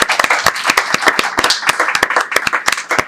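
Audience applause at a film-acting conference held at a Tecnológico venue, a dense patter of many hands clapping steadily and fairly close, alone with no talk.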